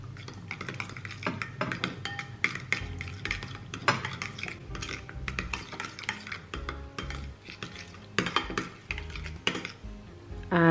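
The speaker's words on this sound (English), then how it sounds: "we're just going to give that a mix." Spoon stirring a masala mixture for Indian-style roast chicken in a pot, with steady scraping and clinking of utensil against metal and a light sizzle underneath, close and continuous without speech.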